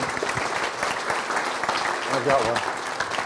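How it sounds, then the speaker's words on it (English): Moderate applause from a community town hall audience greeting a moderator, steady clapping with a voice speaking briefly over it. "let's give him a round of applause"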